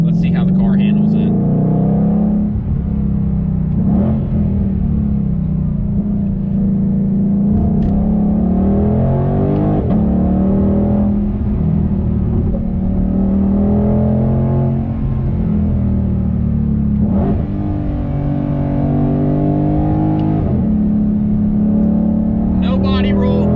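A 760-horsepower 2020 Shelby GT500 engine drones steadily from inside the car on a tight, twisty mountain road, rising and falling with throttle and gear changes. Someone talks over it throughout.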